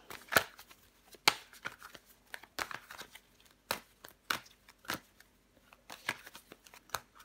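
Tarot cards are shuffled by hand in a series of crisp, close riffles and snaps, irregularly spaced bursts with quiet gaps between them and no voice.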